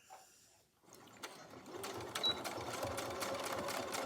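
Sewing machine running steadily as it back stitches a seam on a fabric project bag, starting after a quiet moment and continuing as a close, even mechanical whir with light clicks.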